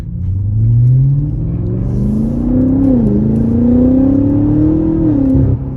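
A BMW M5 Competition engine revs up and pulls hard on back roads, its throaty drone climbing in pitch with a brief dip before rising again, loud and close, recorded binaurally.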